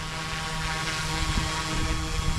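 YU XIANG F08 1/34-scale Bell 206 RC helicopter flying outdoors on a breezy day, a steady whining rotor and motor drone with a fine buzzing tone, close and loud throughout.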